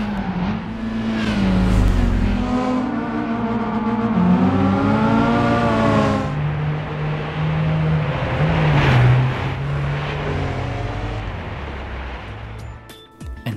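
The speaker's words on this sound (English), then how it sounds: "those same people complained about the poor engine sounds" Car engine sound in the Gran Turismo 5 video game, a loud sustained engine note climbing and shifting pitch through repeated revs and gear changes, heard on its own without talk.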